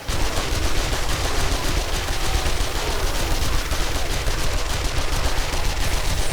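Dense, continuous gunfire from a zombie horde fight in the video game 7 Days To Die, loud and steady throughout with rapid overlapping shots and no pauses, no talking.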